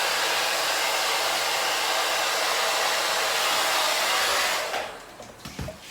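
A hair dryer blows steadily and loudly for several seconds while drying a dog after its bath, then cuts off near the end, leaving a few faint handling knocks.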